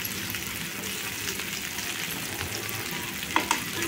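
Chicken sizzles steadily in a pan over a medium flame with ginger, garlic and black pepper for butter garlic chicken. A constant close hiss is broken by a couple of small clicks near the end, and no one speaks.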